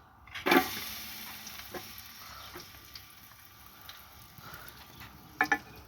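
Three small-chopped garlic cloves frying in oil over a wood fire, giving a soft, steady sizzle with a louder crackle when they hit the pan and a few clinks later on.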